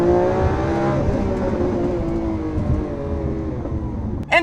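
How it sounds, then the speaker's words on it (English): A Lamborghini Aventador S launches hard in Corsa mode, its engine roaring loud and close as it climbs through violent automatic upshifts, with a sharp shift break near the end. "floor the gas, release the brake, and hold on tight. Despite being in Corsa, it will automatically upshift for you in an extremely violent way."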